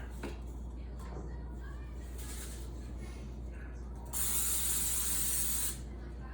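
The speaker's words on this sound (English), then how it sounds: "we'll spray this with some baking spray" A brief spray of baking spray hisses onto a cookie sheet for about a second and a half against quiet room noise, close to the microphone.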